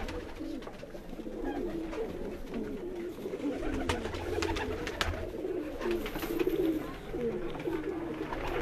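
A golden pigeon pair and other birds in a loft coo in low, overlapping murmurs, a continuous soft burbling with occasional sharper flutters and clicks against background noise.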